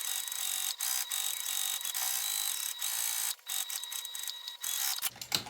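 A sewing machine stitching down the side seams of a fabric bag gives a steady, fairly quiet whirring run broken by a few brief pauses and stops, with a small click near the end.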